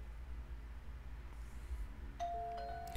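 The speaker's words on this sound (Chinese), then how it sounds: "门外传来电铃声。" A doorbell chimes inside a BL romance simulation video game, two bright electronic tones near the end over a low background hum.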